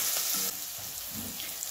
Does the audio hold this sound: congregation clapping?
no